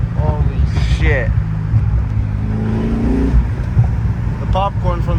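A Corvette Z06 pulls hard down a side street with a loud, close engine roar, rising revs and crackling exhaust pops, and someone talks over the noise.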